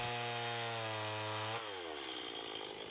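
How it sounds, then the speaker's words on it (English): A chainsaw cuts through wooden deck posts, its engine a loud, steady buzzing drone nearby that drops in pitch as the chain bites into the wood. "I actually use my chainsaw and cut them off level to the underside of the deck."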